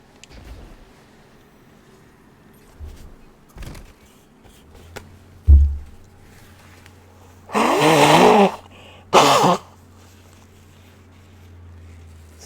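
Someone blowing their nose in two loud, close, noisy honks a second apart, alone in a quiet room with a low steady hum and a few faint knocks beforehand.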